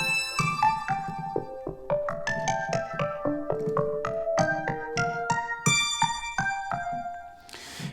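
The MyTie synthesizer in Studio One plays a quick run of bright, plucky tonal notes in an irregular melodic sequence, steady and close with no speech, ending in a short noisy burst.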